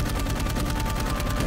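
Rapid continuous automatic gunfire in the video game Dark Void, loud and dense with fast repeating shots over a rumbling game soundscape.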